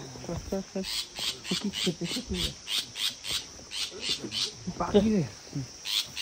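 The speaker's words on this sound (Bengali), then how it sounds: "একটা পাখি ডাকছে উপরে" A bird squawks repeatedly from above in the Darjeeling hills near a homestay, a series of rhythmic, fairly close calls roughly every half second, with people talking over part of it.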